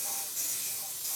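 Hairspray sprayed liberally from an aerosol can onto a used Kawasaki KLR650 motorcycle, a steady close hiss lasting about a second with no pauses.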